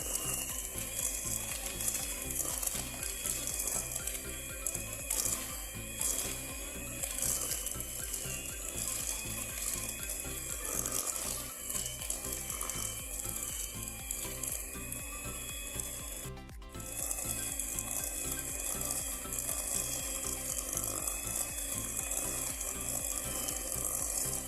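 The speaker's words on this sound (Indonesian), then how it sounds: "kemudian mixer butter dan gula pasir ini hingga berwarna putih" An electric mixer beats butter and granulated sugar for cupcake batter, a steady whirring rasp with rhythmic churning running continuously, with a brief dip partway through.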